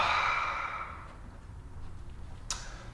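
A long exhaled breath during a live Kundalini meditation, airy and close at first, then tapering off into quiet, with a brief faint click near the end.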